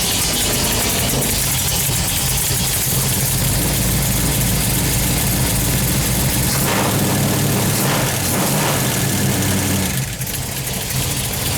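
A loud car engine idles roughly and continuously close by, a heavy rumbling drone with a slight knock, shifting briefly near the end.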